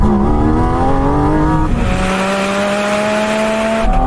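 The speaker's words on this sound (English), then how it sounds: "and then there's a throttle response to that engine, and you've got all the revs, of course." Porsche 718 GT4 RS flat-six engine revving hard while driving, its pitch climbing steadily, dipping briefly and then rising again, loud and close throughout with no talk.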